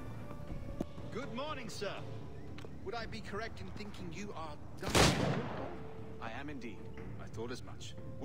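A single loud, sharp gunshot in the video game Assassin's Creed IV: Black Flag cuts through steady conversation, with voices talking before and after.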